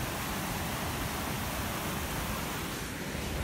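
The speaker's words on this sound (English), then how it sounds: "I'm sure you guys can barely hear me again because of the waterfall" The South Fork Clackamas waterfall roars as a loud, steady broadband rush of falling water heard up close, with no break or change.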